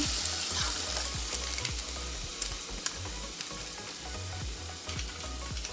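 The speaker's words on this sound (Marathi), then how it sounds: "आता हे मसाले परतून घेते थोडंसं तेल सुटेपर्यंत" Spices and masala sizzle and fry in oil for egg biryani, a steady close crackle with soft stirring scrapes throughout, no talking.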